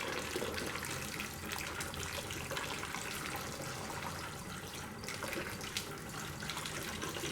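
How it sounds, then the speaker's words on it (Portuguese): A homemade PVC water pump lifts water with a steady, continuous rush and splash of flowing liquid that holds at an even level from start to finish, with no voices. "conseguimos bombear a água."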